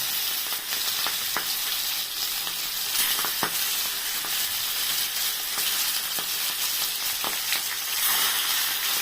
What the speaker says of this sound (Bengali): এবার আমি এই তেলে মাছগুলো দিয়ে দেবো